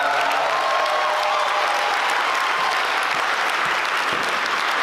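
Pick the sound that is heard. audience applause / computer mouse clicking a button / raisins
audience applause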